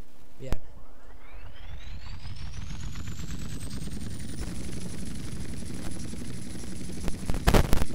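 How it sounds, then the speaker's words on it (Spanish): A helicopter in GTA San Andreas drones steadily with a rising rotor whine, continuous and fairly loud, with a voice talking over it throughout. "Vamos a subir un poquito más con el helicóptero"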